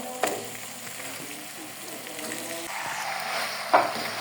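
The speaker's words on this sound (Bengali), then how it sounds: "সব কিছু ভালো করে নেড়ে মিশিয়ে দিয়েছি" Chicken frying in a pan with turmeric, bay leaf, cinnamon and cardamom, giving a steady soft sizzle with a couple of sharp utensil scrapes from stirring, close and moderately quiet.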